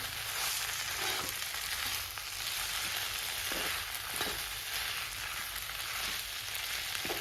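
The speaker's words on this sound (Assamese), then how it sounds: "এতিয়া চাওমিনখিনি দি দিলোঁ। তো এতিয়া লৰাই দিওঁ।" Chow mein noodles stir-fried in a home kitchen pan, a loud, continuous close-up sizzle with crackling and occasional scraping stirs, no voices.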